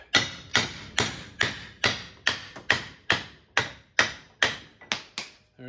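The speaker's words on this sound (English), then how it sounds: "That'll let us get a little bit more of a hit on it." Hammer blows knock on a pipe to drive a rack and pinion bushing out of a steering rack clamped in a vise, from a 2002-2008 Dodge Ram 1500 4x4. About a dozen sharp, evenly spaced metallic strikes ring close and loud with no talk.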